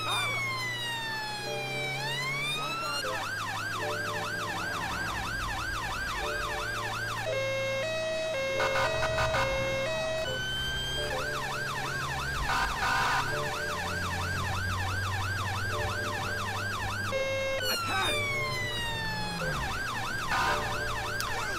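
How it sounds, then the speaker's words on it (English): Police car siren in a GTA 5 British police mod, loud and close, cycling through wailing, yelping and two-tone patterns over a low engine hum. "So we've got lights and sirens on."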